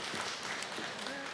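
A church congregation claps together during a Taiwanese-language Mother's Day Sunday service, a dense, continuous wash of hand claps with a few voices mixed in throughout.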